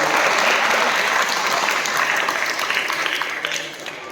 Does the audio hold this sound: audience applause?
yes